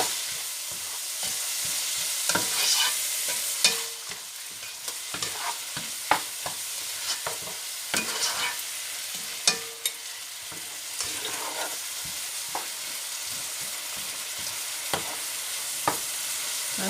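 Crushed garlic cloves fry in a pot for chicken with celery, a steady soft sizzle punctuated by frequent scraping and clicking strokes of a utensil stirring nearby, with no talk.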